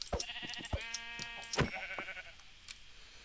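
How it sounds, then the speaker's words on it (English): Several quavering sheep bleats from the Minecraft video game, close and clear, one long wavering call in the middle flanked by shorter ones, with soft clicks between. "We're going to have to kill some sheep"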